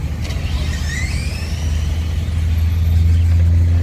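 RC drag racing cars accelerate hard down a track, a loud continuous engine whine with rising pitch sweeps that builds steadily over a few seconds.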